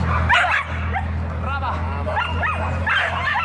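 Dogs yip and bark at an outdoor spring dog-show parade in Sicily, with excited, high-pitched calls partly buried under steady spoken narration and crowd ambience.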